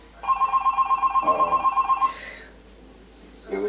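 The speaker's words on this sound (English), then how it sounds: "when the phone rang" An electronic telephone bell trills in rapid, even pulses for about two seconds, loud and close, then stops; some rustling and a brief voice follow.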